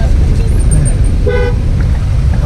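Rush-hour road traffic near the Clark main gate in Angeles City, Pampanga, Philippines: a dense, loud rumble of vehicles with a few short car-horn toots rising above it.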